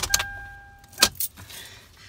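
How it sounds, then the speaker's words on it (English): Ignition shut-off on a 2003 Toyota 4Runner, with keys jangling, a few close clicks and a short chime tone inside the cabin, no engine running. "and then we're gonna turn off the vehicle."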